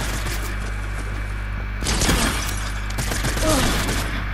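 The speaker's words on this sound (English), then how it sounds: "I shot this kid 58 times" Gunfire in a shooter video game sounds as a dense, continuous fusillade of rapid shots, loud and close, with heavier bursts partway through.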